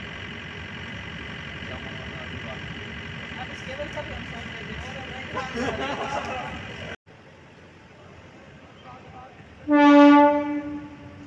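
A train emerging from Tunnel 50 on the USBRL Katra-Banihal line in Jammu and Kashmir: a steady loud rumble and roar of the passing train, then a cut and a long clear horn blast near the end.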